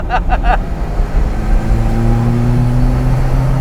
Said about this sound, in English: That turbo, look at that. I'm just barely stepping on the throttle going up this hill.